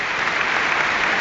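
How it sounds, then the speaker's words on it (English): Steady, dense applause fills a football stadium as a Premier League crowd at West Ham versus Fulham claps in tribute, a continuous wash of hands holding level throughout without any voices standing out. "is the applause going around the stadium"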